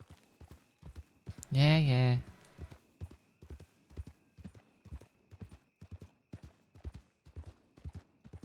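Steady, rhythmic video game hoofbeats of a horse trotting, close and even, with a brief loud whinny early on and a short spoken remark.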